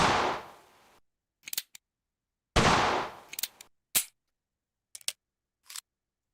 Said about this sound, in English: Now you can fire like this.